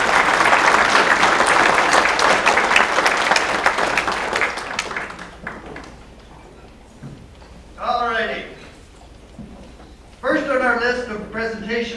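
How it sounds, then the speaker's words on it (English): An awards-event audience applauds the selection committee: dense, loud clapping for about five seconds that fades out, followed by someone speaking alone. "So they certainly deserve our applause and thanks for doing all that."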